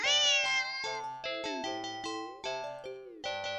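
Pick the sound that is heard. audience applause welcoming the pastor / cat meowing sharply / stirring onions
cat meowing sharply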